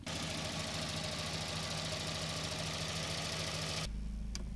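A car engine runs after a radiator flush and a top-up with distilled water. It gives a quiet, steady idle with an even pulsing rhythm and a faint knock, heard alone until it drops away near the end.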